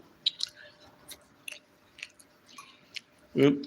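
Close, soft chewing and biting on fried chicken, with small crunchy and squishy bursts spread over a few seconds and a louder smack near the end.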